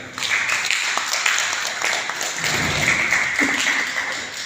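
An audience claps at a ceremony congratulating Aftab Khan on his book: a dense, steady patter of many hands with sharp taps and thuds scattered through it, fairly loud and continuous.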